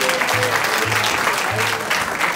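Steady applause from a crowd at a Jain community honoring event in Houston fills the whole clip, a dense continuous clatter of clapping with a faint low hum underneath.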